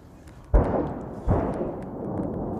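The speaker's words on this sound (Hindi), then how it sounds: "शहर को तबाह करने के लिए अपने भारी तोपखाने का मुंह खोल दिया" Heavy artillery shelling a city on the Russia–Ukraine frontline: two loud, deep booms about a second apart, each rolling off into a long rumbling tail over steady low background noise.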